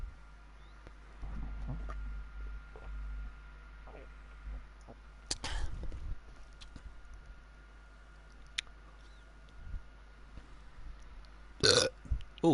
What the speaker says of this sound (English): Don't mean to burp on a live gameplay, but I think I have been burping in the past.